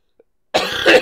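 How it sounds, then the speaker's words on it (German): A lingering cough from a weeks-long illness: two close, loud, rough bursts heard alone, each quickly following the other. "Ich habe immer noch Husten übrigens, seit 3-4 Wochen."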